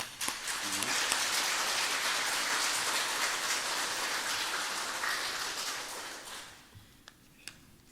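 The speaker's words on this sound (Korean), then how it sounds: "뜨겁게 박수로 환영해 주시기 바랍니다" A church congregation gives the pastor a warm welcome with sustained applause, a dense, rain-like wash of clapping that fills the room and then fades out into a few isolated claps.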